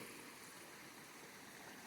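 A fish-filled wilderness creek flows in a steady, even rush of water, a constant broadband wash with no pauses or voices over it.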